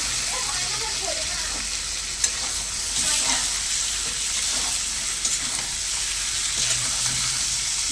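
Washed chicken pieces drop into a spice masala already fried until the oil separates, for a chicken curry; a steady sizzle with stirring scrapes and brief clatters, under occasional voice.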